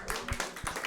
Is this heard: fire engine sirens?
no